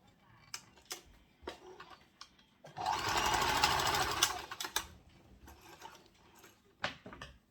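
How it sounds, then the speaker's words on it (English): A sewing machine stitches the back of a gathered off-shoulder dress in one close, steady burst of about two seconds, surrounded by quiet clicks and handling of fabric and pins. "It's the back I'm sewing in."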